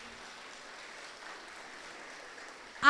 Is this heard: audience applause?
yes